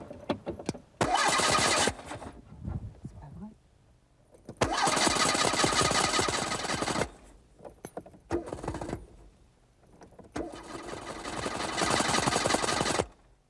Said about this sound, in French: fais tourner ton moteur, là.